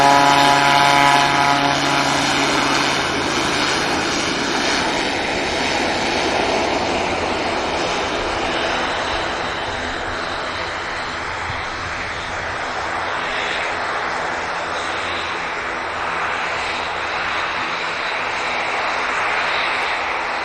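A Polaris aircraft takes off from the runway at Manchester Airport with a loud, continuous jet engine roar that holds steady and slowly fades as it climbs away, with no voices over it.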